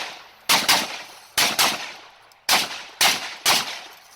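A ZPAP M70 AK-47 rifle fires during a shooting match, giving five loud, sharp reports at uneven intervals, some close together in pairs, each with a short echoing tail.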